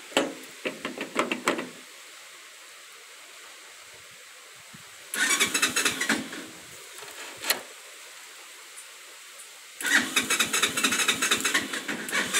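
A Volkswagen Beetle engine fitted with a motorcycle gearbox cranks in short bursts, three separate loud stretches of starter and engine noise broken by quieter pauses with faint knocks, heard close up.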